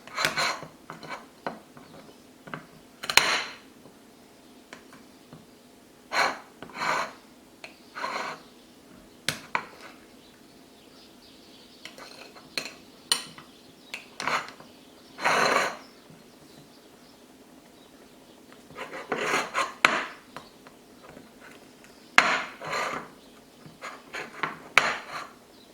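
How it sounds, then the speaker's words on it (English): A knife taps and scrapes on a board in short, separate bursts with quiet pauses between them as a brownie ingredient is cut into small cubes for melting. "So I'm just going to cut them up into like cubes or something like that"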